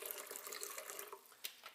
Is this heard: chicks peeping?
no